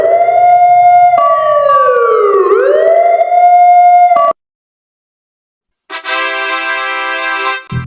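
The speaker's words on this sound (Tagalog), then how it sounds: "This is a sound of fire truck." A fire truck siren wails loudly and alone, rising and falling in pitch, then after a short silence a blaring air horn sounds in a steady burst.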